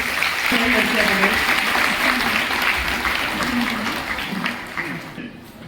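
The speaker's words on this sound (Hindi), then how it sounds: "जोरदार तालियां बजाएंगे" A hall audience at a women's free sewing machine distribution event claps loudly and steadily, a dense sustained applause with a voice talking over it before it tapers off at the end.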